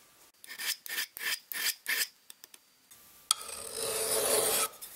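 A file rasps along the edge of a cheap GRIP camping axe in several steady, close strokes, followed by a longer hissing scrape.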